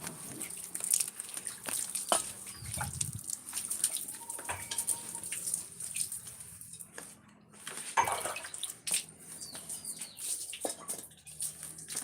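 Water poured and splashed over a cow's udder before milking, faint intermittent splashes and trickles with birds chirping around, no speech.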